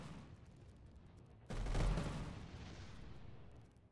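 Cannon fire in the video game M.A.V. sounds as one heavy, booming blast that erupts suddenly over low background noise and then rumbles away slowly, with no speech.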